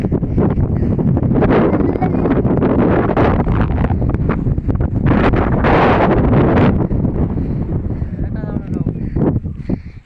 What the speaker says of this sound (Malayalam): നല്ല കാറ്റുകളൊക്കെ